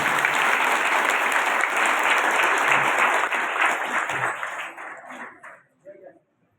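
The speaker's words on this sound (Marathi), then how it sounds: "सर्वांनी जोरदार टाळ्या वाजवा." Loud, dense applause from an audience at a Marathi kirtan gathering at a temple in Dahigaon holds steady for several seconds, then thins out and dies away with a few last claps.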